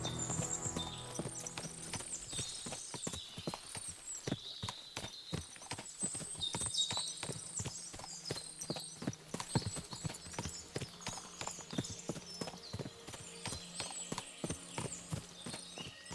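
Many horses clip-clopping on the ground in the medieval video game Kingdom Come, a dense run of overlapping hoof strikes with occasional snorts and whinnies, steady and fairly close, over a faint bed of game ambience.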